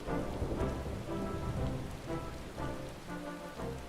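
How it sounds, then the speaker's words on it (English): Steady rain pattering on surfaces in the Final Fantasy XIV video game, a dense, continuous wash with faint low rumbles beneath, no voices. "Raining in Alamigo?"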